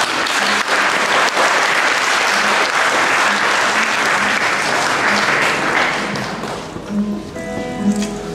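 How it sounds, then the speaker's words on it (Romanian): Audience clapping at the opening festivities of a theological high school's anniversary days, loud dense applause that holds for several seconds, then thins and fades into scattered claps. "Se aplaudă."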